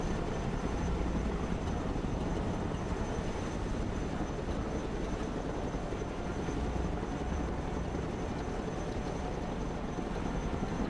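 Chinook helicopter in the video game Broken Arrow gives off a steady, faint rotor and engine drone that holds evenly throughout with no talk.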